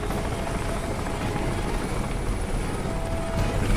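Helicopter flying in the video game Crysis, a steady loud rotor drone and engine whine that holds throughout, swelling slightly toward the end, with no talking.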